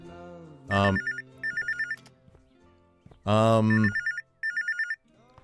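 An old-style telephone bell rings in bursts inside the video game I Am Here, two clear ring cycles with pauses between, alongside short loud tonal stings and brief sounds in a quiet room.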